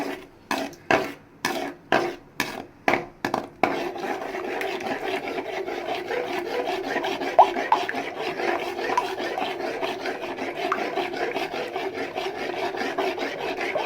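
Eggs being beaten in a bowl with a utensil: a run of sharp, rhythmic scraping strokes, followed by faster, continuous whisking and clinking at close range, with no one speaking.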